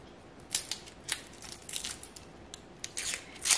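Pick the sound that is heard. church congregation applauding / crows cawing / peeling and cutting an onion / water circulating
peeling and cutting an onion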